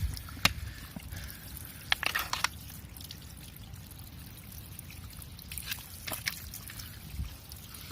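Spring water trickling from a leaf spout into a bag, a faint, quiet stream with scattered drips and splashes over soft outdoor background.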